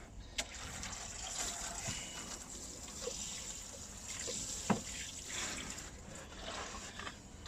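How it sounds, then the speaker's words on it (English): Water is poured from a can onto dry soil while watering a newly planted onion bed, a steady soft splashing and trickling wash that runs the whole time, with a few faint knocks and no talking. "All I'm going to do really is just going to give it a bit of a watering."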